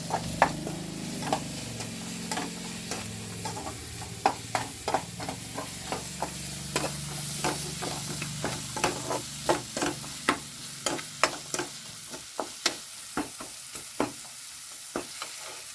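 A spoon scrapes and stirs susla, a puffed rice dish, with salt in a pan, giving repeated sharp clicks and scrapes in a steady rhythm over a soft sizzle, close and clear, with no talking.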